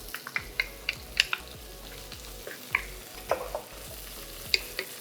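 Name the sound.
chopped onion sautéing in hot pan with ginger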